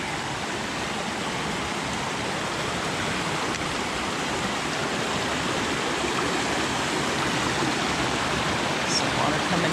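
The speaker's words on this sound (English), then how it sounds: "Some water coming down." A small stream at a hiking trail crossing in the Pemigewassett area rushes past in a steady, broadband wash of flowing water, close and unbroken throughout.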